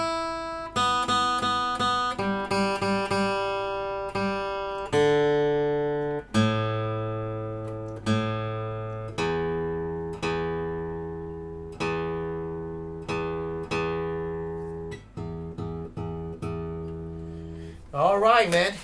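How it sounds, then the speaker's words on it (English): A Dowina Merlot GAC acoustic guitar with macacauba back and sides is tuned, with single plucked notes and harmonics ringing out one after another in a loud, close, bright tone that decays slowly, then a quick strum at the end. "Let me just tune it a little bit."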